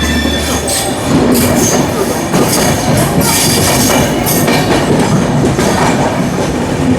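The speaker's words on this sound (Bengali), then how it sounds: "বামুনহাট উত্তরবঙ্গ এক্সপ্রেস ছেড়ে বেরোচ্ছে শিয়ালদা স্টেশনের 11 নম্বর প্ল্যাটফর্ম থেকে" The Bamunhat-bound Uttarbanga Express pulls out of platform 11 at Sealdah station, a loud, close, continuous rumble with rhythmic clattering wheels and occasional squeals throughout.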